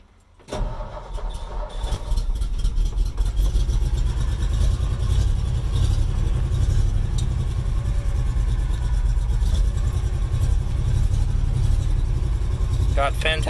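A Ford F250 pickup that is down on several cylinders cranks and catches, then settles into a loud, steady, slightly rough idle that runs without a break, with a voice speaking briefly over it.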